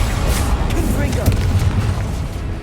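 Within a Hogwarts Legacy video game battle, the Confringo fire spell detonates in a loud, continuous rumbling blast. Deep booms and crackling bursts follow one another under a dense barrage of other spell effects.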